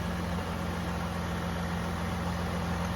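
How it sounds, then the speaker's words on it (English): A 1995 Acura Legend LS with a six-speed, an Arizona car under restoration, idles smoothly and steadily, a low continuous engine hum held close up with no one talking. "it's idling pretty smoothly"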